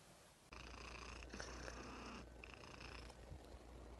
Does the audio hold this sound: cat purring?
yes